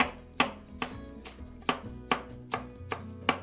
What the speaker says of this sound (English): give it a rough chop